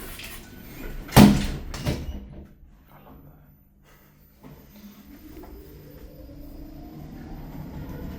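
Lift doors at Cabot Place, Canary Wharf, slide shut with a loud thud and short rumble, followed by a quiet hum and a rising whine as the car begins to move, with no talk.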